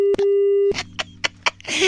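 A telephone line goes dead after a radio prank call disconnects: a steady electronic tone sounds with a brief break, then stops into a few soft clicks and a low hum before noise rises at the end.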